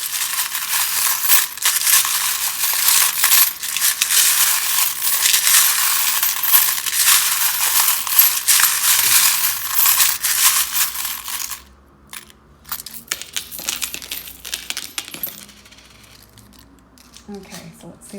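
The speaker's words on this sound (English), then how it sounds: "this can be a little bit loud when I'm shuffling them" Tarot cards are shuffled loudly and continuously in dense papery riffling bursts for about eleven seconds, then quieter scattered card handling and soft taps follow.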